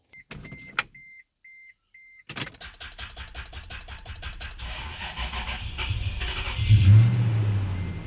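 After a few electronic chimes, a truck engine with freshly cleaned battery terminals cranks with a rapid stuttering whir, catches, and settles into a steady idle that swells in loudness toward the end.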